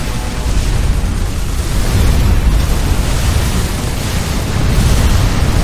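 Artillery support fire in the real-time strategy game Supreme Commander 2 produces a dense, continuous roar of explosions, loud and rumbling, with booms blending into a constant heavy barrage and no talking.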